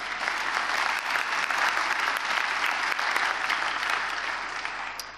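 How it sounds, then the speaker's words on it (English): A large audience at an Arab American awards night in Los Angeles applauds steadily, a dense, even wash of clapping that holds for several seconds and only begins to thin at the very end. "I think they deserve an applause."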